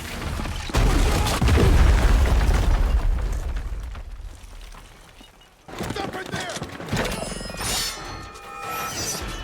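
An explosion in the Arcane animated series lands as a loud, deep boom that rolls into a long rumbling decay, followed by a second burst of clattering, ringing debris-like noise.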